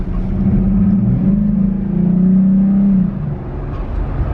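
A Jeep Gladiator engine fitted with an S&B cold air intake runs with a steady throaty drone, swelling briefly as it revs up and then settling back to a deep idle close by.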